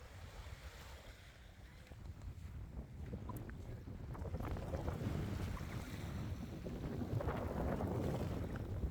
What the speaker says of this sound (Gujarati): પવન બહુ જ છે પણ એટલા બધા મોજા નથી.